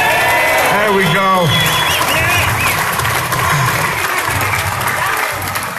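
Rally crowd applauding and cheering for Nate, a dense, steady wash of clapping close by that fills the whole stretch, with voices calling and talking over it.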